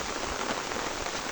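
Steady heavy rain falls outdoors in a dense, continuous hiss of drops on surfaces, loud and close throughout with no voices.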